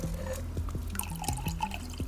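Liquid potion pours from a cauldron through a still in a video game, heard as a close run of bright drips and splashes with gurgling water over a steady low tone.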